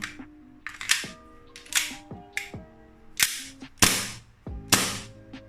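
Sharp snapping pops from an airsoft gas pistol fired with no BBs loaded, in quick irregular bursts, each with a short metallic ring, fairly close and with no voices.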